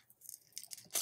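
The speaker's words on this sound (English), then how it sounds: "Oh, it's ripping." A paper sticker is slowly peeled from a packaged planner kit and starts to rip, faint crinkly tearing bursts building to a louder sharp rip at the very end, close and quiet.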